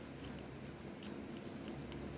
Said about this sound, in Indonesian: Kita gunting bagian tengahnya seperti ini.